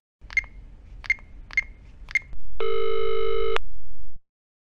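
A telephone call being placed: four short dialing tones in a row, then a steady, loud ringback tone that holds for more than a second before stopping, with no talk.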